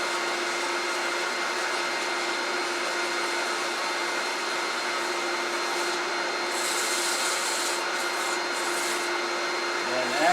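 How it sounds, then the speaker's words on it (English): Dust collector drawing air through a Woodturners Wonders Trac Vac flexible hood at a wood lathe, a steady broadband rushing hiss holding even throughout, with faint higher sanding scratches toward the end. "I'm using my new Woodturners Wonders Trac dust collector hood."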